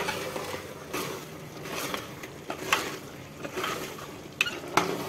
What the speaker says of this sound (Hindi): कीमा हमने 3-4 मिनट तक भून लिए